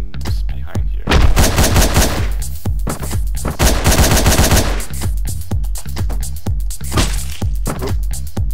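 Rapid, loud gunshots in the video game Hotline Miami, sharp repeated cracks and bursts over a driving, pulsing music track that runs throughout.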